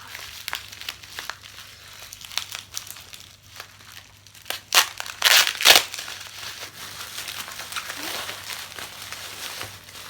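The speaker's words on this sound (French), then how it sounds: "c'est super bien emballé hein, dans du papier bulle" Bubble wrap packaging being unwrapped and handled, giving a steady run of crinkling and crackling with a louder burst of crumpling partway through, close up and without talk.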